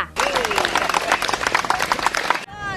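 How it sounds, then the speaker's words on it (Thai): A burst of close, crisp group clapping rings out for about two seconds, then stops abruptly, with a voice briefly audible at the start. "ปรบมือให้จริง ๆ ค่ะ"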